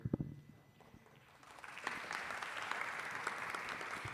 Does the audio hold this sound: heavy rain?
no